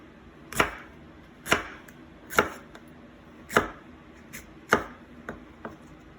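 A knife chops straight down through a jalapeno on a cutting board, giving seven sharp, close knocks at an uneven, unhurried pace with quiet gaps between them.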